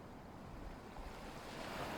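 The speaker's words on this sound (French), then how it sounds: "Regardez les vagues," Ocean waves at a lagoon wash in as a steady, broad rushing surf, continuous and soft with a slight swell toward the end, heard alone with no voices.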